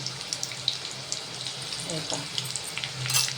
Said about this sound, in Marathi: एकदम अशी भारी होती तर आता हे चांगलं तळून द्यायचं